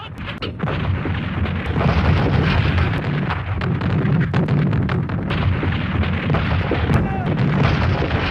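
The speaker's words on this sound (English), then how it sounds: "The shelling of the city began at precisely 7:12 a.m." Artillery shelling of the city at Verdun in 1916, reconstructed for a WWI documentary, comes as a continuous loud rumble of booms and distant blasts with wind-like noise, and narration can be heard over it.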